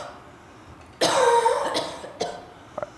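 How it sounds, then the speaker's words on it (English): A single dry, voiced cough close to the mic, followed by a few smaller throat and breath sounds. "It's a dry cough."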